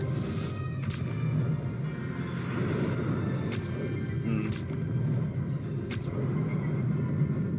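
A truck drives away in the Marvel Future Revolution video game with a steady, low engine rumble and road noise that holds at a moderate level throughout, and no voices.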